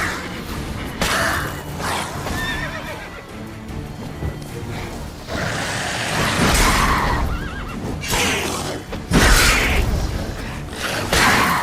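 Horse neighs and whinnies from Geralt's horse Roach in the video game The Witcher 3, several loud bursts over a busy game soundscape, with no talk.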